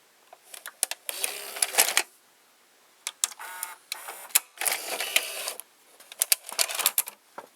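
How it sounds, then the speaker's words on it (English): The cassette carriage motor mechanism of an Emerson VCR872 whirs and clicks as it loads a tape, in several mechanical bursts separated by short pauses, close and fairly quiet. "Now I will insert this cassette, and we're going to take a look at this motor mechanism."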